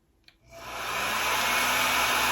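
A Llano hair dryer set to quick dry mode at 100 degrees Celsius starts up after a faint click and blows a loud, steady rush of air that holds even until it cuts off.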